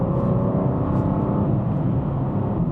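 A manual BMW M2 (G87) engine drones while driving, a steady low-pitched hum with slight rises in pitch, close and continuous without talk.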